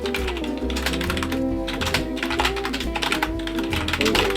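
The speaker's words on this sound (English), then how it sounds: "Gotta keep typing stuff." Rapid, irregular clatter of fingers typing on a computer keyboard, close and continuous, with brief pauses between bursts of keystrokes.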